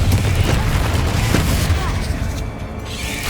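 Bombarda blasting spells in Hogwarts Legacy combat: a continuous heavy rumble of booming explosions, loud and close, easing slightly toward the end.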